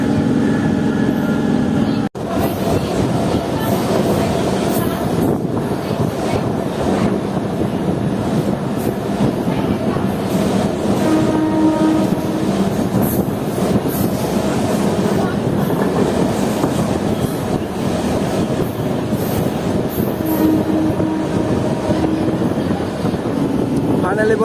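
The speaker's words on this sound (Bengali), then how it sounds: "আমাদের ট্রেন পৌঁছে গেল" MEMU passenger train on the Katwa–Rampurhat line pulling into a station, a loud continuous rumble with rhythmic clickety-clack of wheels over rail joints, with voices talking throughout.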